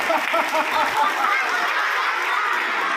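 A group of children clap loudly together during yoga practice at a school, a dense, continuous patter of many hands with crowd noise blended in.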